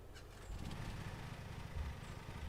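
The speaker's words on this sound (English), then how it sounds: "Z to start the engine." Lawn mower engine starting in the video game Lawn Mowing Simulator, a faint sputter that catches into a steady low chugging idle with a rough, throbbing rhythm.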